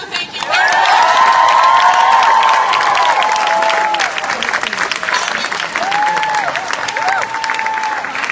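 Festival audience at the Maryland Renaissance Festival breaks into loud, close applause with cheers and whoops, a burst that swells early then continues steadily while a few voices call out over the clapping.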